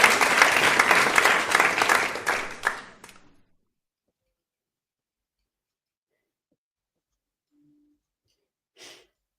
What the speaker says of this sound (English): Give some applause, Tim.